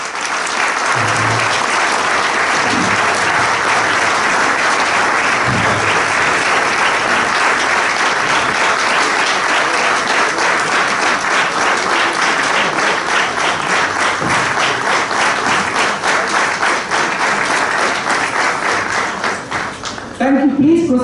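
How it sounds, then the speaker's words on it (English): Audience at a GST law orientation course session applauding its panelists, with sustained dense clapping throughout that fades near the end as a voice begins speaking. "And please continue your round of applause."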